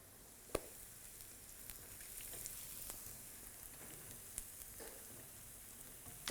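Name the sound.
onions sweating in a pan for chicken curry gravy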